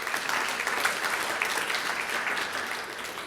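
Steady round of audience clapping at a social inclusion forum, honouring a Paralympic S8 freestyle swimmer; moderately distant, even and continuous with no voices.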